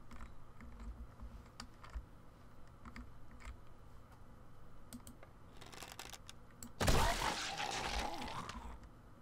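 Glass breaking in the zombie survival game 7 Days to Die: after quiet clicking and tapping, a sudden bright crash of shattering glass erupts and trails off with scattered tinkling.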